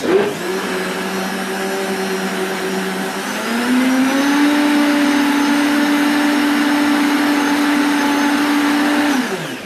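A blender whirs steadily at close range, its motor pitch rising partway through and holding before cutting off at the end.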